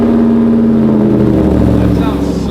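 A straight-piped Porsche 918 hypercar holds a loud, steady, droning exhaust note up close, its low rumble thick with harmonics and drifting slightly in pitch, with no one talking over it.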